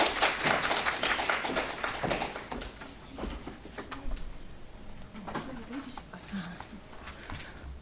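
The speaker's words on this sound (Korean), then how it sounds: "박수로 맞이해 주시기 바랍니다" Scattered audience applause greets a speaker at a development-cooperation civil society forum, loud at first and then thinning into lighter, sparser claps, with voices talking underneath.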